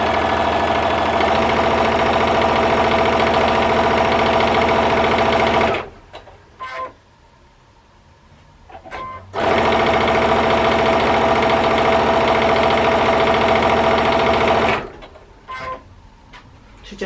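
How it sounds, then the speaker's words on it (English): A sewing machine stitches quilt pieces together, running loud and steady for several seconds, stopping briefly with small handling clicks, then running hard again before another stop. "I can just pick them up and sew as I go along. So it zooms through quite easily"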